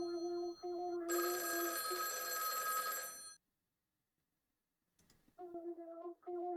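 A telephone ringing in a video game demo: a loud, electronic bell trill that rings for about two seconds, stops into silence, then starts to ring again, with no voices over it.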